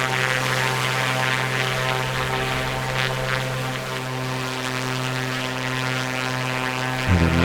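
Steady droning engine of a small propeller aircraft in flight over a coastal area near a seaplane base, loud and continuous with strong tonal hum, pitch dropping briefly near the end.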